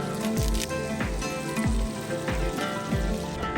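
Curry leaves hit hot oil in a cooking pan, setting off a steady crackling sizzle with repeated clinks of a spoon stirring against the pan.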